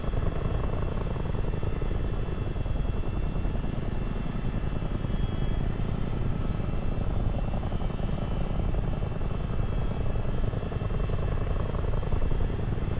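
Miltech CH-47 Chinook helicopter in Microsoft Flight Simulator flying with a slung cargo load: a constant, dense rotor and turbine roar that holds steady and loud, uninterrupted and without speech.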